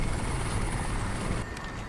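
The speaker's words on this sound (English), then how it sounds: "There's a helicopter." A military helicopter from the shooter game Crysis Warhead roars with dense, continuous rotor and engine noise, loud and close, then thins slightly near the end.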